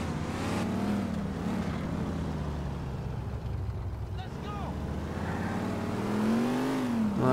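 Car engine driving in GTA IV, a steady low engine drone with rising and falling revs, moderately loud and continuous, with a voice speaking over it.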